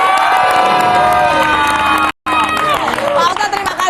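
A loud television studio audience cheers and shouts with excited whoops, a brief cut midway, then the cheering resumes with high-pitched voices rising over it.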